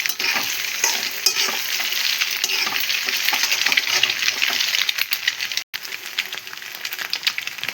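Eggs sizzling and frying in a pan with steady stirring, for tamarind chutney, a continuous close hiss with scraping and clinking throughout.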